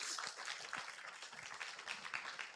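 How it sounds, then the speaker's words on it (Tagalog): A church congregation claps in steady, scattered applause that stays faint and distant throughout. "Mahina yung palakpak nyo."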